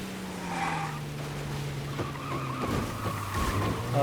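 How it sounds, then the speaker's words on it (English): A car crash in Mafia: Definitive Edition, heard as a loud engine roar and tire skid sliding downward in pitch, then a scraping, clattering impact over continuous vehicle noise. "Oh, wow, they crashed into the thing."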